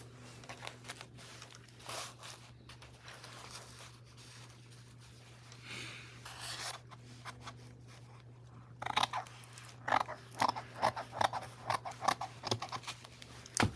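Scissors cut paper for a pocket in a flip-flop junk journal, a quiet run of short snipping and rustling sounds that grows busier and a bit louder toward the end, with no talking.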